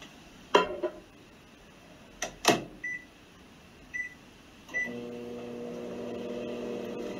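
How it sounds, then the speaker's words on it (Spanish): A microwave oven cooking scrambled eggs in a bowl gives a few clicks and short beeps, then settles into a steady mechanical hum as it runs, with no talking. "puedes volver a colocarlo en el microondas durante 40 segundos más."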